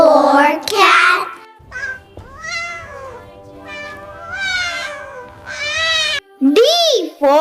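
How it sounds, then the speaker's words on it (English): A cat meows several times within a children's alphabet nursery song, the drawn-out, rising and falling meows clear and close, mixed with singing. "C for cat."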